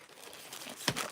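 Stickers are peeled off and pressed onto items, a quiet close crinkle of backing paper rising to one sharp tearing peel near the end.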